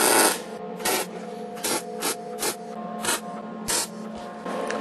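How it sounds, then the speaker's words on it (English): MIG welder tack welding a metal frame for a DIY electric heat treat oven, a series of short sizzling, crackling bursts separated by quiet gaps, loud and close. "I'm using a MIG, the MIG welder, not the TIG"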